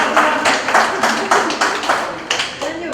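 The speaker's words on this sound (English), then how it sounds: "Round of applause," A small film crew on set claps together for several seconds, with quick uneven hand claps, fairly close and loud and gently rising and falling, and with no speech over them.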